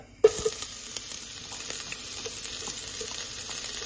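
Sliced onions hit hot oil in a pan for a Goan red spinach and pork dish, bursting into a sudden loud sizzle that settles into a steady crackling fry.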